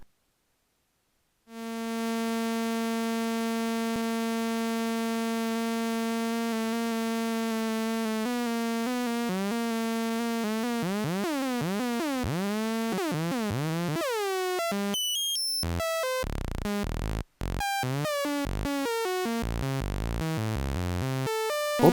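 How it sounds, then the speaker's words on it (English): Modular synthesizer with a random waveform modulating the VCO's FM input: a sustained buzzy tone whose pitch steps and warbles unpredictably, growing more jumpy and glitchy with abrupt cuts toward the end. "Random waveform into the VCO FM input."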